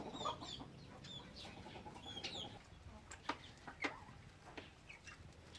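Free-range chickens and newly hatched chicks in a backyard give soft clucks and high, thin peeps. The sounds are faint and scattered over a low background hum.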